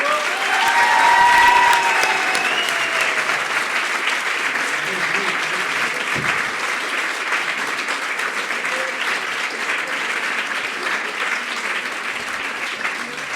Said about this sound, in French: Je propose de derniers applaudissements chaleureux à l'égard de tous nos concurrents.